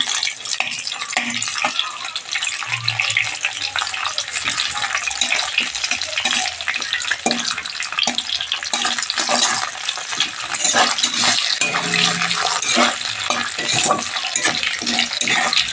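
Cauliflower pakodas fry in oil with a loud, continuous bubbling sizzle, while a spatula stirs them through with repeated soft knocks and scrapes against the pan.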